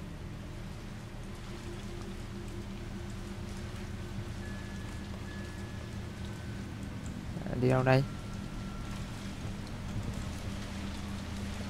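Steady rain falls outside in the game Resident Evil 3 Remake, a constant soft hiss beneath a low hum, while someone speaks briefly and a short tonal burst sounds near the end.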